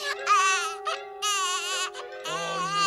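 A cartoon baby Smurf cries in three long wailing bursts with short pauses between, loud and close, carried over a steady sustained musical tone in the background.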